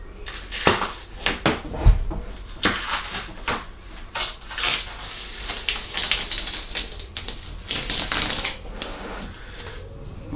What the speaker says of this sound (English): Right, I'm going to slowly peel that off.